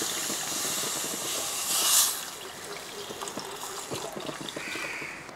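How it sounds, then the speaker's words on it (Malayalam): Water poured into a hot pan of sardine curry on the stove, giving a steady sizzling hiss that swells briefly, then settles into a bubbling crackle. "ഇനി നമുക്ക് ഇതിൻ്റെ ആ പച്ചച്ചുവയൊക്കെ ഒന്ന് മാറിയ ശേഷം കുറച്ച് വെള്ളം അങ്ങോട്ട് ഒഴിക്കാം"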